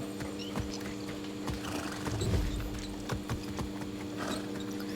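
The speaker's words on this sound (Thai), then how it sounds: "เป็นสัตว์ขี่ได้ม้า" Horse hooves clip-clop steadily while riding a mount in Far Cry 6, with a brief heavier thud partway through over a constant game ambience.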